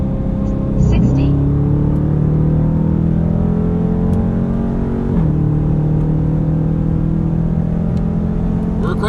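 A 5.7-liter Hemi Dodge Charger accelerating hard, its engine droning loud and steady up through the revs, with an upshift around one second and another around five seconds.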